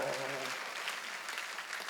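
A church congregation at a Sunday worship service applauds in a dense, steady patter of clapping, with a voice heard briefly over the first half-second.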